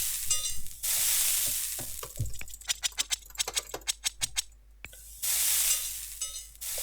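Fish and chips frying in the Restaurant Tycoon 3 video game: bursts of loud sizzling hiss alternate with a run of quick rhythmic ticks and taps, with no talk.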